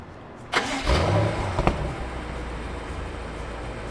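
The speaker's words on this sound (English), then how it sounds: "I'm just gonna hit the lock button 3 times" A BMW starts remotely while parked outside: a sharp crank catch around half a second in, a brief rising flare, then a low steady idle that holds to the end, heard close with no voices.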